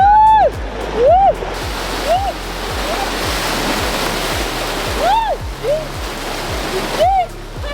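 Rushing water from a waterfall in Langkawi, Malaysia, a loud continuous wash and splash that fills the scene, with excited voices and whoops rising above it.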